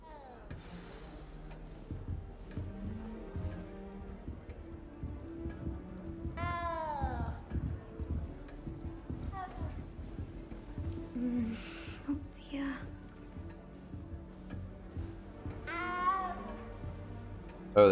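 A cat in the Hogwarts Legacy video game meows a few times amid game sounds and murmuring voices, short rising cries at moderate distance, with brief hoof-like clatter in the background.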